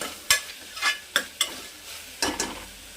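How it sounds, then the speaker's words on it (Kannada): Tomatoes frying in a pan while being stirred, a soft steady sizzle broken by several distinct scraping strokes of the spatula, close up with no talking. "ಟೊಮೊಟೊ ಎಲ್ಲ ಎಷ್ಟು ಚೆನ್ನಾಗಿ ಫ್ರೈ ಆಗಿದೆಯಲ್ಲ"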